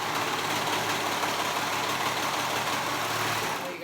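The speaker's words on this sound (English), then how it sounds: "Zigzag stitch or your serger right along that edge. I'm doing my serger." A serger overlocking along the binding edge of a swimsuit, a steady, close mechanical whir running without pause.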